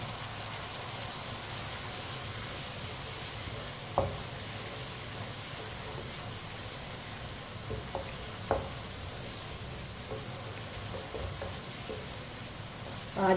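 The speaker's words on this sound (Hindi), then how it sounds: "ऑयल डाल के 2 मिनट के लिए पका ले रहे हैं" Potatoes cook in hot oil in a pan on the stove, making a soft continuous sizzle with a few faint clinks and small pops here and there, and no one speaks.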